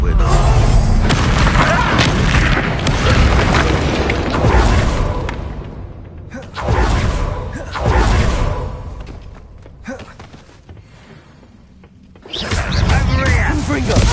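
Spell explosions from Confringo and Bombarda casts in the video game Hogwarts Legacy, heavy booming blasts with whooshes and thuds in several loud bursts, mixed with in-game voices and combat effects.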